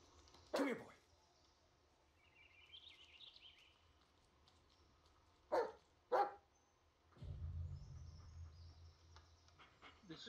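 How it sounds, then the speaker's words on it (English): A dog companion in the horror video game Blair Witch gives a few short, sharp barks, one early and a close pair later. A low rumble and faint ambient game sounds fill the gaps. "This is Boy, your right-hand dog. Listen to his barking and watch his body language."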